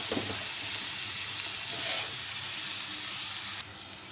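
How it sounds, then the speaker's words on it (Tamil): Grated carrot for halwa sautéing on a slow flame, producing a dense, even hiss of sizzling that runs steadily and drops slightly in level near the end, with a faint scrape of stirring early on. "நல்லா ஸ்லோ ஃப்ளேம்லேயே வதங்கட்டும்."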